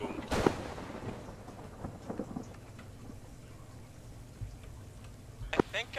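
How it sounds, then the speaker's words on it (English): Lightning strikes crack and thunder booms around a facility in a video game, with sharp bursts near the start and end over a steady rain-like hiss, while a voice talks in between. "That facility's getting a lot of lightning hitting it right now."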